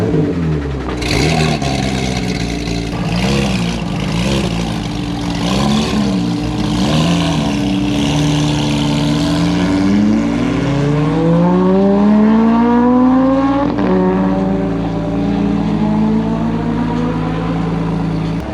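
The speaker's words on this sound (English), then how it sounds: "People are burning out." Cars leaving a Coffee and Curves cars and coffee meet at 129 Hub, engines revving hard with rising and falling pitch sweeps and burnouts, loud and close, several vehicles overlapping throughout.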